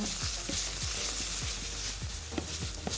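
Steady close-up sizzling of Thai green curry paste frying in a pan, with repeated soft scraping strokes of a utensil stirring through it.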